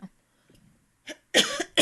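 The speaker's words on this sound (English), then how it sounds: "I'm sorry, I coughed, y'all." A person coughs a few times, sharp close bursts separated by short pauses with near silence between.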